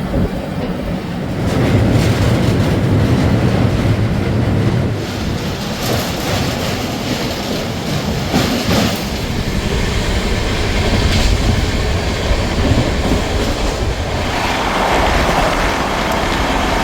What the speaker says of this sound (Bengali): প্রায় 1 ঘন্টা লেটে ট্রেন আমাদের প্রবেশ করছে তার যাত্রাপথের দ্বিতীয়